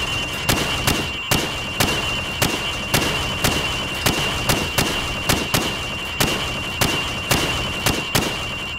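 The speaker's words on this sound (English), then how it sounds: "I want you to shoot the targets through the wood." Rifle shots fired at pop-up targets through wood, plaster and sheet metal in Call of Duty 4: Modern Warfare, a steady rapid series of about twenty sharp cracks at even intervals over a constant background hum.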